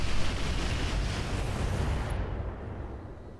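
Heavy weapon fire in the video game Roguepoint: a dense, continuous roar of blasts, loud and close, whose bright crackle cuts off partway through while the low rumble carries on.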